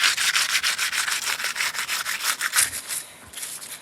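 Sandpaper rubs over a fake rock planter in rapid back-and-forth strokes, a steady rhythmic scratchy rasp close up with no talking.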